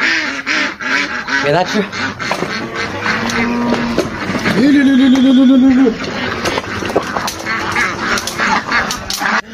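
Several ducks quack and honk in a loose, overlapping cluster at close range on a small farm, blending with talk from a man feeding them rice bran.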